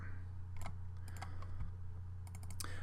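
Mouse clicks in CAM software while programming a tool path, a few quick close clicks scattered over steady low hum, no talk.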